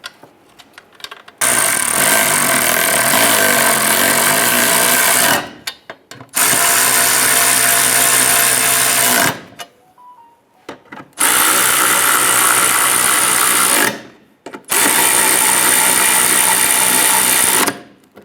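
A power tool snugs down the cross brace nuts during rear upper forward control arm work on a 2005-2010 Chrysler 300, in four loud whirring, ratcheting bursts of several seconds each, separated by short pauses.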